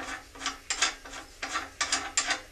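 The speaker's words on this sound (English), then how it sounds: "On the end of your bolt, your 12 millimeter bolt, you screw this on the bottom of it like that." A metric coupler is screwed by hand onto a 12 mm bolt for a telescope tripod pier extension, making a series of close, rhythmic scraping and clicking turns of metal on thread.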